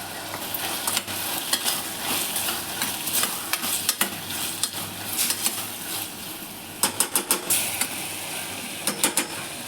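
Tomatoes fry in a pan with a bright, constant sizzle while a spoon stirs, scraping and clicking irregularly, then in quick bursts of sharp knocks near the end.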